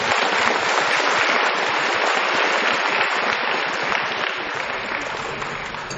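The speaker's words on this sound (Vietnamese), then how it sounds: "Tôi đề nghị chúng ta vỗ tay hoan nghênh cái sự kiện này." Audience applause fills a ceremony hall at a report marking 40 years of Vietnam's participation in the International Mathematical Olympiad, steady dense clapping sustained for the whole stretch, loud and close with no break.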